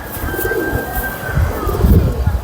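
A Kasuri pigeon of the Lal Pari type coos softly, a low rolling murmur that swells toward the end over steady background noise and a faint high whine.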